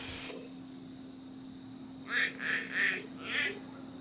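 A clouded leopard gives a short series of four nasal, honking calls in quick succession, fairly clear over a steady low background hum.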